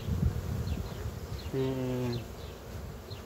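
Honeybees buzz around strong colonies in an apiary, a steady hum with individual bees droning past nearby, and a voice speaks briefly.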